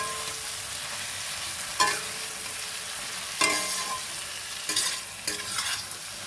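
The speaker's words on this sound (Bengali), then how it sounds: "ডিম সব দিয়ে দিচ্ছি।" Duck eggs frying in a dark curry in a pan, a steady close sizzle broken by a few sharp stirring scrapes and clinks.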